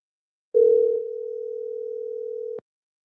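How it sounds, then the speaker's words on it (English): A telephone ringback tone sounds alone and clear, one steady electronic tone lasting about two seconds before it cuts off with a click. "Can you hear the phone ringing, y'all?"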